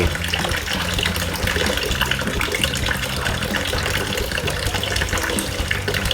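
Tap water gushing steadily and loudly into a basin while clothes are washed in a field hospital, a continuous dense splashing with faint knocks underneath and no speech.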